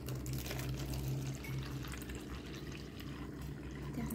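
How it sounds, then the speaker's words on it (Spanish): Water poured from a container into another container, a steady continuous splashing and gurgling that lasts the whole time, fairly close and with no voices. "Vamos a poner esta agua que tenemos aquí en el recipiente."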